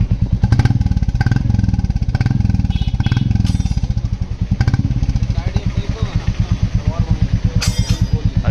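Royal Enfield Classic 350 Reborn fitted with an aftermarket Indori exhaust idling close by, a steady deep thumping beat that swells briefly in a couple of blips, with someone talking over it.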